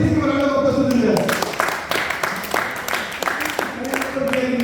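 Applause from a lecture audience on a Bhagavad Gita talk, a brief burst of hand claps rising over a speaking voice and fading as talk carries on.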